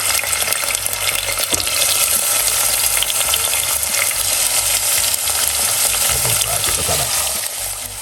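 Vegetables, tomato among them, frying in about a teaspoon of oil in a pan: a loud, continuous bright sizzle with occasional stirring scrapes, easing slightly near the end.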